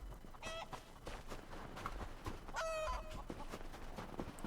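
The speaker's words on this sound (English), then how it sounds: "And now I'm tormenting chickens." Chickens in the video game Elder Scrolls Online cluck and squawk in several short bursts, one louder rising cry near the middle, over a low background hum.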